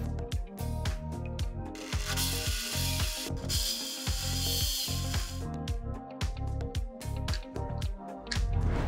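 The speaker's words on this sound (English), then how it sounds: "install the brushless motor with its pinion gear to wear in the bevel gears inside, which will help make the shaft turn with ease" Brushless motor spinning the bevel gears inside an RC drift car gearbox, giving a loud continuous mechanical whir with fast ratcheting clicks and gear chatter, up close and alone.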